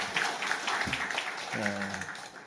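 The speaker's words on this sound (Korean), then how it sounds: "우리 양쪽에 우리 박수 한번 더 크게 한번 해주시죠." A congregation applauds at a Korean church Sunday service after a choir and instrumental performance: a steady wash of clapping runs throughout while someone speaks over it.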